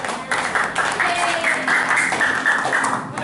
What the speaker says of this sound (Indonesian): beri tepuk tangan untuk Dinda